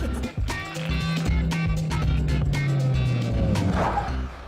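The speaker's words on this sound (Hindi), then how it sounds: "गाड़ी में पेट्रोल खत्म हो गया इसलिए यहाँ पर आकर रुके हो" A car engine in a film scene, about to stop after running out of petrol, gives a steady, near hum with scattered knocks and rattles throughout, with no voices.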